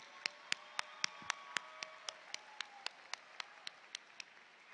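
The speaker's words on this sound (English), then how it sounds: "Let's give them a big applause." At a university commencement, the audience's applause comes through as evenly spaced, sharp claps, about seventeen in a slow, steady rhythm, faint and somewhat distant against a quiet background.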